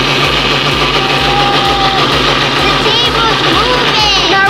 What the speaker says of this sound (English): Now we're gonna blend it again.